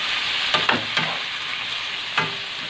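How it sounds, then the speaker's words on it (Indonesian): Shrimp frying with chili and garlic are stirred in a hot pan, a constant close sizzle broken by a few sharp scraping clatters of the spatula against the pan. "Saya aduk-aduk."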